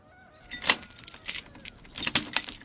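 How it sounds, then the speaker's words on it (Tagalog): Keys jangle with bright metallic clinks in several bursts while a door is unlocked and opened, close by with some faint rattling between the jingles and no voices. "Tumabi ka't bubuksan ko ang pinto."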